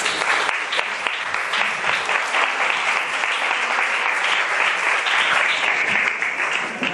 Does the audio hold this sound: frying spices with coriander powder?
no